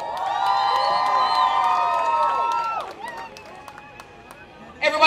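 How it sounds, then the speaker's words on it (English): A concert crowd at a performance cheers with loud, high-pitched shrieks and screams for a few seconds. The cheering fades, then surges again briefly at the end. "keep the applause going, please, for the beautiful Black Queens"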